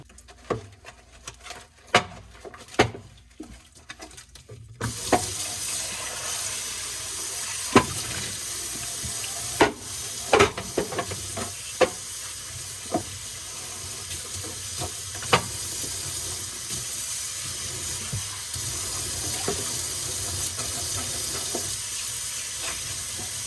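A plastic stackable bin washed under a running tap: hollow knocks and handling clatter first, then a steady rush of water with scattered bumps of the bin against the sink, close and continuous.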